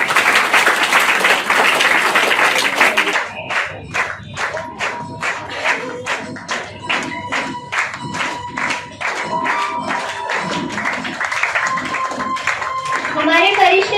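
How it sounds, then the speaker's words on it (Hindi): A crowd at a birthday and Christmas celebration claps to welcome dancers. Dense applause at first settles into a steady rhythmic clap in time, with voices and children audible underneath. "तो आप सभी उनका तालियों से स्वागत करेंगे।"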